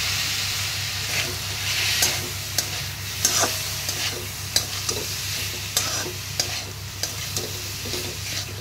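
Chicken momo filling fries with soy sauce and vinegar, a steady sizzle broken by repeated scraping strokes of stirring at a regular pace, close and clear.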